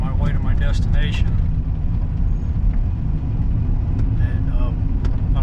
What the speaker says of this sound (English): So I'm driving through this mountain road now on my way to my destination.